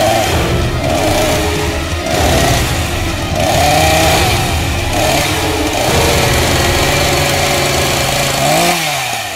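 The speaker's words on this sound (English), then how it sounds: "The chainsaw kept pace behind her, revving, calling for her." A chainsaw revs and idles in uneven surges, its loud buzzing engine rising and falling over a busy rumbling background, alone without speech.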